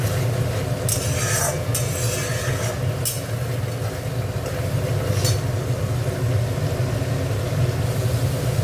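Spice paste with a pinch of sugar fries in a pan for an aar fish curry, giving a steady close sizzle with occasional scraping and clinking from the stirring spoon.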